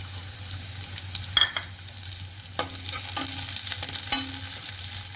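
Onions and green chillies frying on a slow flame for malai shimla mirch, with gentle sizzling under irregular spatula clinks and scrapes against the pan, a low hum behind, no talking.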